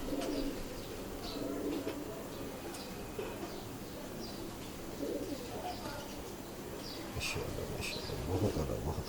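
Ferozpuri pigeons kept in a loft coo in low, repeated murmurs, with sparse chirps and faint background noise throughout.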